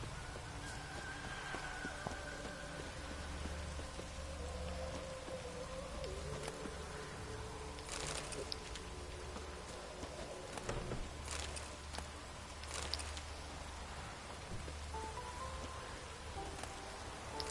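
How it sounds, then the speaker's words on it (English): Steady rain falling in a video game, a continuous soft hiss throughout with occasional brief thuds and clicks layered on top. "Rains like this come sowing time."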